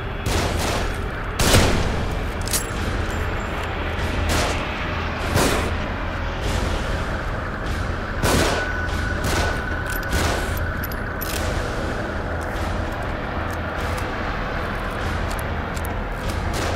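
Gunfire from enemies positioned above in the survival horror game The Evil Within: sharp shots crack out irregularly, about a dozen spread across the stretch, over a constant low background rumble.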